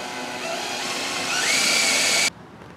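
A power drill boring bolt holes to mount a livewell vent on a boat: a steady, loud whine that climbs slightly in pitch as the bit works through, then cuts off abruptly.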